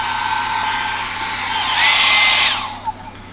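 An electric hair dryer runs loud and close inside a camper, a steady whooshing whine that briefly rises in pitch, as if switched to a higher setting, then cuts off, with no talk.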